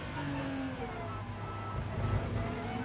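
Race car engine in GT Sport pulling hard back on the power out of a final chicane, a steady continuous mid-pitched drone rising gently in revs, loud and close throughout with no talk.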